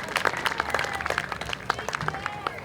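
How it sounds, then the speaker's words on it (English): An audience at an interfaith music festival applauds a children's school performance, with uneven scattered clapping that rises and dips, while voices murmur underneath. "Let's give another round of applause to Alhambra Academy for a beautiful performance."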